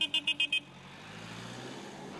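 A car horn gives five short rhythmic toots in city street traffic, followed by a steady engine and road rumble with no voices.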